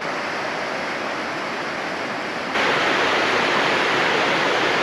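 A rushing river at a crossing roars as a steady, loud broadband wash of water, jumping noticeably louder partway through and staying constant to the end with no voices.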